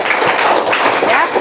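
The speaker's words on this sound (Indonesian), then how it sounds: "Tepuk tangan dulu untuk Wiwin." Short burst of audience applause for a student during a classroom guidance session, steady and close throughout with voices mixed into the clapping.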